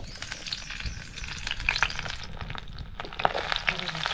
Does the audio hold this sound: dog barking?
no